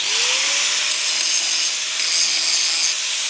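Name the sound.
angle grinder deburring sharp edges of steel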